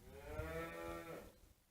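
A hungry young Aubrac calf on a French farm in the evening bawls one long, drawn-out moo, moderately close and clear against quiet farm ambience.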